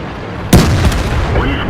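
A Tier VI Russian heavy tank fires its cannon in World of Tanks, one sudden loud boom at about half a second that rolls off into a rumbling tail, with a voice talking over it.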